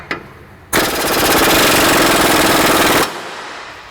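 A pneumatic impact wrench works on the rear wheel bearing bolts of a 2004 Ford Explorer, a brief tap and then a loud, close, continuous hammering burst lasting over two seconds before cutting off.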